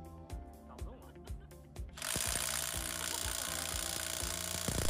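A Bosch 18V cordless impact wrench fitted with a 30 mm socket strains against a stubborn front wheel nut on a car. Sharp rhythmic clacks give way to a loud, sustained hammering whir up close.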